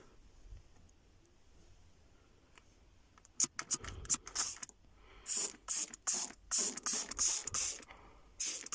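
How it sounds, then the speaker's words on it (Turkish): After a quiet start, a spray bottle hisses in a run of short, sharp bursts of car interior cleaner, close by, each spritz separated by brief pauses. "Şu boş kutuya boşaltıp sprey şeklinde devam edeceğiz"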